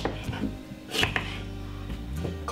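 A kitchen knife cuts potatoes into large chunks for honey roast vegetables, with several uneven, close chopping knocks against a board.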